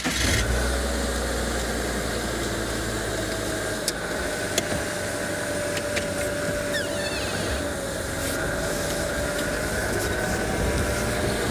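A safari vehicle's engine on a morning game drive in South Africa, running as a steady, close, mid-pitched drone with a faint rising whine. It continues throughout, with a few light knocks and clicks and no speech.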